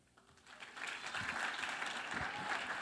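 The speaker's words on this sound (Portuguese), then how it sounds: "palmas para a Gláucia" Applause from a conference audience builds quickly and holds steady for a few seconds, a moderately loud crowd clapping with faint voices mixed in.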